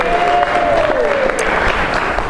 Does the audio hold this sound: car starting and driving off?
no